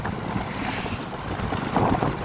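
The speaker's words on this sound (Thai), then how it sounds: "ลมพัดแรงอยู่ด้วย" Strong wind buffets the microphone in a steady roar, rumbling and gusting throughout with no voices.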